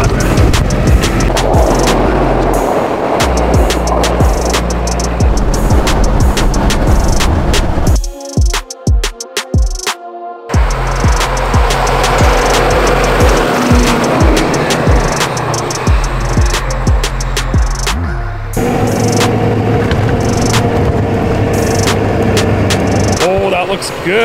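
A Hummer H1 drives off-road through snow with a steady, loud engine and tire rumble that briefly drops out mid-way, and someone talks over it throughout.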